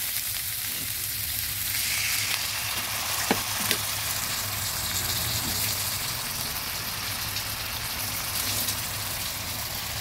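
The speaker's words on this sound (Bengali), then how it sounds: "বাটা মশলাগুলো কিছুটা কষিয়ে এনেছি, এবার দিয়ে দেবো সামান্য জল।" Ground spice paste fries in a pan for a potato and koi fish curry, producing a steady, close, hissing sizzle with a few faint clinks of stirring and no voices.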